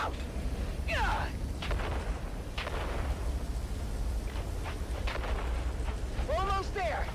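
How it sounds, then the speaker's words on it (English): Grenades going off in the video game Dune Awakening, with booms and bursts sitting beneath a steady rumble while several voices shout over the action, close and loud. "On 3, we grenade and move! 3, 2, grenades out!"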